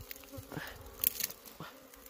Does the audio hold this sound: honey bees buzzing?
yes